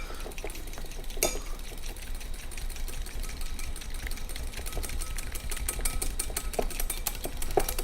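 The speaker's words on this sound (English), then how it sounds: "we're going to use the Rada Cutlery Handi-Stir, and we're going to whisk these until they're fully incorporated" Egg yolks are whisked in a bowl with a Rada Handi-Stir, giving rapid rhythmic clicking and tapping against the bowl, close and steady over a low background hum.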